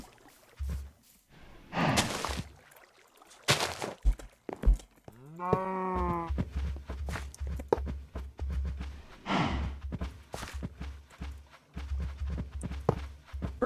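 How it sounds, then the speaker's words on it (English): Cows moo in the Minecraft Better Than Wolves mod, with one clear drawn-out moo in the middle amid footsteps and other game noises, close and moderately loud. "Okay, we got cows."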